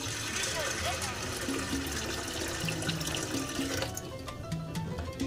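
Water runs steadily from a tap into a pot holding a pound of pinto beans on a kitchen stove, a continuous close splashing stream at low level with faint background tones.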